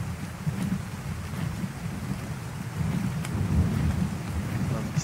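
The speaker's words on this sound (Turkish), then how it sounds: "Gök gürültüler." Steady rain and rumbling thunder in the video game Ark Survival Evolved, a continuous dense downpour with deep low rolls throughout, no voices.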